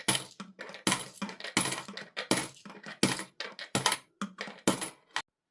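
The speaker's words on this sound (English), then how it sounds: "all the coins have been dropped" Coins, including 50p, £1 and £2 pieces, dropped one after another into savings during cash stuffing, a rapid series of about a dozen sharp metallic clinks and rattles, close and fairly loud, with brief gaps between them.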